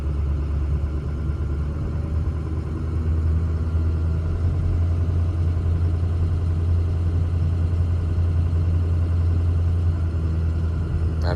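A Ford Excursion engine drones steadily and loudly after the throttle eases off on an interstate drive, a constant low rumble inside the cab with no clear change in pitch.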